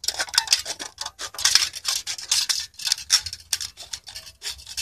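Scissors cutting down and around a metal can to make a simple alcohol stove, a run of short close snipping and scraping bursts in steady rhythm, with no voices.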